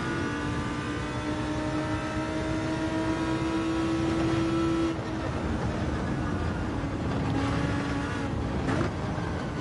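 Racing car engines in a racing video game, Audi among the cars, hum steadily with a sustained engine tone that drops partway through, a continuous mid-level drone with no talking.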